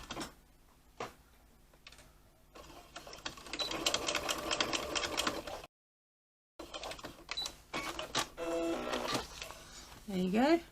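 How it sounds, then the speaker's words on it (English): Up close, a sewing machine topstitches a pocket on a lilac messenger bag, running in fast rattling bursts with a brief stop, and a voice speaks over it. "then just top stitch the top 1/8 of an inch"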